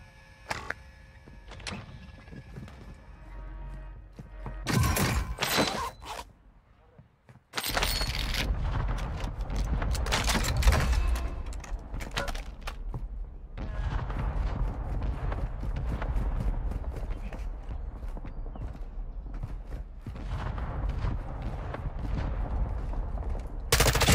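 Video game gunfire in the Elden Ring setting: dense bursts of rapid shots with sharp cracks, a brief lull, then sustained loud volleys that keep going under a busy mix.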